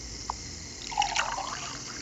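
Water pouring into a cup in the Toca Boca World game, a soft short trickle and splash rising near the middle of a quiet stretch, with a brief click just before it.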